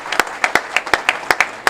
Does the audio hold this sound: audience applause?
yes